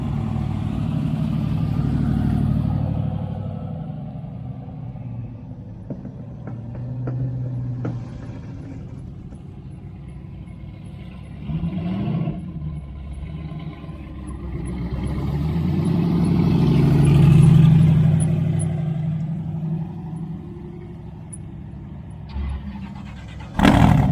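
Hot rod street car engine at Sick Week drag-and-drive event, rumbling low and surging in a couple of swells of revving, loudest in the middle and again at the very end, heard nearby over outdoor background noise.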